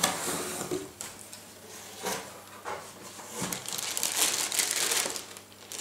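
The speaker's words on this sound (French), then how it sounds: "Nous allons ouvrir tout de suite la boîte et voir ce qu'il y a à l'intérieur." Unboxing a Garrett Apex metal detector: packaging crinkles and rustles close by in irregular bursts, with a few soft knocks of cardboard and contents being handled. No one speaks.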